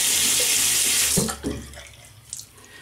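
Water runs from a tap onto a shaving brush in a steady hiss that is cut off after about a second, followed by a few soft splashes and drips, close and alone.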